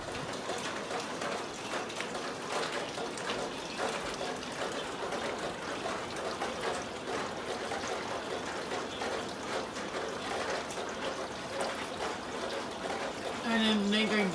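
Rainwater pours and trickles steadily into a bedroom through the ceiling during a heavy storm, a continuous close splashing stream with a louder burst near the end; a voice speaks over it.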